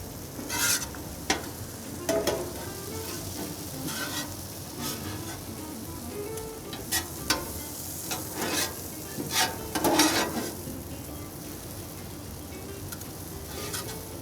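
Lo mein noodles with sesame oil are tossed and sizzle on a griddle, a steady frying hiss broken by repeated scraping and clattering spatula strokes, fairly close and with no voices.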